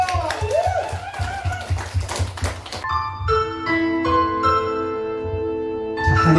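A senior singing class claps together in a steady beat while a voice sounds over it, and then the clapping stops and instrumental music with sustained tones takes over.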